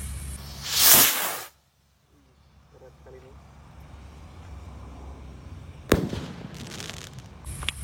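Large Roman candle fireworks lit at night outdoors: a loud hissing whoosh burst at the start, then quiet fizzing, followed by a sharp pop and crackle near the end.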